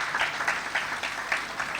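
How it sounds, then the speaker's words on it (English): An audience applauds at a ceremony honoring a man, a short burst of dense, steady clapping at moderate level with no talking. "Give him another round of applause"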